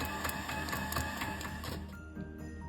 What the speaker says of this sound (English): Next, whisk softened butter.